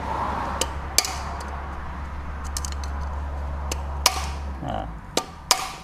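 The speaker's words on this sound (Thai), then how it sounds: "ตอกนิดนึง" A hammer taps valve springs into an Isuzu D-Max cylinder head in a workshop, giving several sharp metallic knocks scattered over a low steady hum, some clustered near the end.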